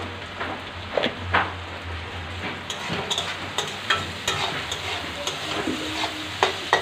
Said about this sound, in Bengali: পেঁয়াজ ভাজা হতে হতে